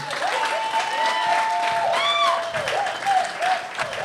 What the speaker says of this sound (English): Clap it up for Harlem.